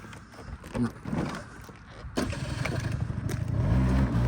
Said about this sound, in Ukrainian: Заводиться все з кнопочки, їде, бурчить, газує такий шустренький апарат.